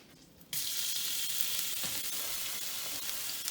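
Garlic hitting hot oil in a stir fry, a sudden loud hissing sizzle that bursts in after a quiet moment and holds steady, close and bright, with faint stirring underneath.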